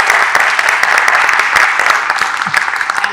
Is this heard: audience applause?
yes